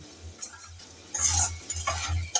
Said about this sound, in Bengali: চালটা থেকে পুটপুট করে আওয়াজ হবে তখন মনে করবেন যে চালটা ভাজা হয়ে গেছে